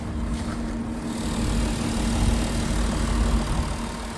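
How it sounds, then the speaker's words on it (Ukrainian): A 2013 Volkswagen Touareg 3.0 diesel engine idles with a steady low rumble and faint mechanical clatter, close by and continuous, with wind noise in the background. "двигун працює тихо, м'яко."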